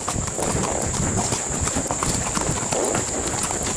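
Horse hooves clip-clop steadily in a continuous walking rhythm while the horse is ridden along a trail, close and fairly loud throughout.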